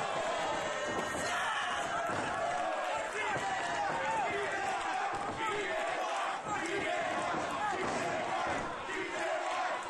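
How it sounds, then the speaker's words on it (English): A wrestling crowd at an FSW High Octane show chants and roars loudly and steadily throughout, with a commentator's voice over the noise. "listen to the crowd. They are chanting for Gorgeous and Young"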